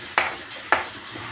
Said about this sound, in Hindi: इसको इसमें अच्छा भून लेना है